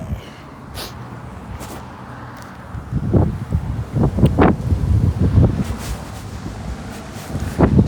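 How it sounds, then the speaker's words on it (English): Wind gusting outdoors, a steady low rumble that swells into stronger buffeting bursts in the second half, close to the microphone, with no voices. "it's windy outside"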